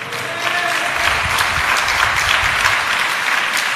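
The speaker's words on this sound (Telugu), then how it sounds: "గట్టిగా అన్న ప్రవక్తికి ఒకసారి చప్పట్లు కొట్టండి" An audience claps together inside a church, a dense, sustained round of applause at steady volume throughout.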